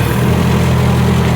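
A Hobart M5 generating unit powered by a Hercules flathead engine runs with a loud, steady idle, its low throbbing drone close and continuous with no other sounds over it.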